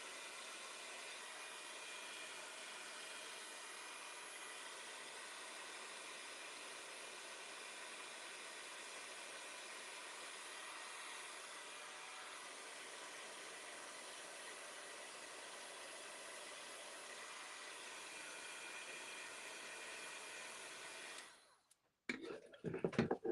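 A dryer blows steadily to dry a handmade holiday craft, a loud, even, close whoosh held for about twenty seconds before it cuts off, followed by a few handling noises.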